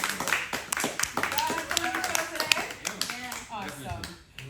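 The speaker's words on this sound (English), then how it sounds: "Everybody give yourselves a round of applause for our today." A group clapping together outdoors, scattered sharp claps mixed with voices talking over them throughout, moderately loud and close.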